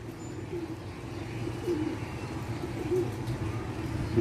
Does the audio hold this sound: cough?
no